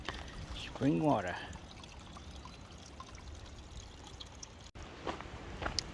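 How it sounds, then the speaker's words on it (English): A soft, continuous trickle of spring water pours in the background, with a brief voice early on and faint outdoor sounds. "Spring water."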